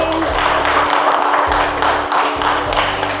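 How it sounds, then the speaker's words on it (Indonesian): A classroom claps for a student group in a steady, dense burst that stays fairly loud throughout, with no voices on top. "Tepuk tangan dulu buat kelompoknya Sophie"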